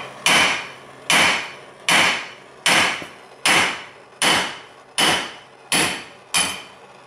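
Hammer blows knocking a heated 12mm wheel stud out of its hub, nine sharp metallic strikes in a steady rhythm about three-quarters of a second apart, loud and close with short ringing decay.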